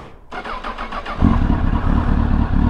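Honda CBR1000RR SC57 motorcycle engine turning over with the starter, then catching and settling into a loud, steady idle close by.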